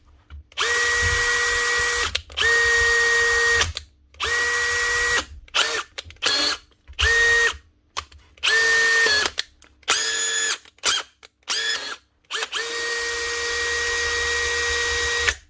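A Makita DGA504 angle grinder, just repaired after a jammed gearbox, spins up repeatedly in loud, close, high-pitched whining bursts of varying length separated by short silences and quick blips.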